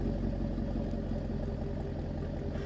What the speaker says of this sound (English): now that the car is in tour mode, you should be able to hear the exhaust